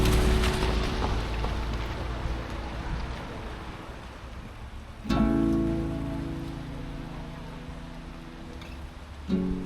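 Rain falling on a street in a town centre, heard as a steady broadband patter with traffic rumble underneath and a brief vehicle passing midway.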